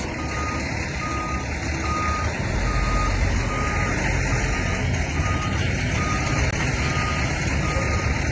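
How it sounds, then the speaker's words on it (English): A truck drives close behind with its reversing alarm beeping in a steady repeated pattern over a loud engine rumble that grows slightly louder partway through, with no talk. "this fucking truck is following me"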